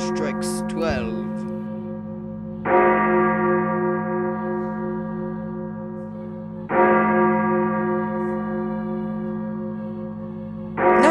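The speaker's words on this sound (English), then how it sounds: "It ends when the bell strikes 12." A church bell strikes with deep, resonant tolls every few seconds, each ringing out and slowly decaying under a steady low hum, in a Lego Christmas Carol scene.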